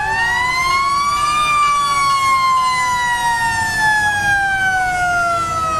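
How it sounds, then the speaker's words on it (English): A hand-pump wailing mechanical siren on an old fire truck at a firemen's parade rises slowly in pitch, holds, then gradually winds down, loud and steady with a low engine rumble beneath. "That's a hand-pump siren there."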